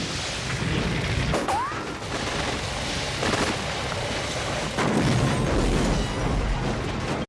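A film explosion from Harley Davidson and the Marlboro Man: a loud, sustained broadband roar with crashing debris impacts that runs for several seconds without letting up.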